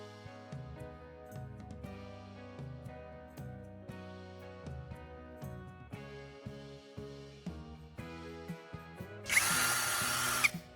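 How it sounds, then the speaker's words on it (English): Handheld power drill spinning a carbon rod against sandpaper to sharpen its tip: short whirring bursts of motor whine stop and start repeatedly at close range, ending in a louder, harsher grinding burst. "I'll insert it into my drill and use a piece of sandpaper to sharpen its tip."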